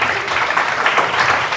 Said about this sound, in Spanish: Un grande aplauso es para el Señor.